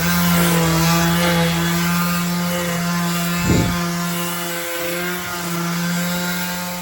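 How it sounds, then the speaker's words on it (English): A power sander grinds on a metal 2006 Chevy Silverado truck bracket with a loud, steady motor drone close by, holding constant with a brief surge partway through. "let's start sanding that down"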